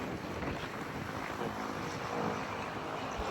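Strong outdoor wind buffeting the microphone at a flower garden in Pak Chong, a steady loud roar and rumble that masks everything else, with no voices.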